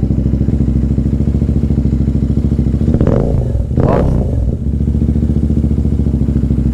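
A warmed-up Interceptor 650 motorcycle fitted with a Way2Speed air filter idles loudly and steadily up close, with one brief throttle blip rising and falling midway.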